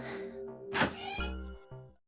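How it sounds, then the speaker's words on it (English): A door opening in the visual novel game 999, a sharp loud burst at mid-clip followed by heavy low thunks and a trailing rumble, with tonal game music underneath. "The sound of the door opening was like a gunshot."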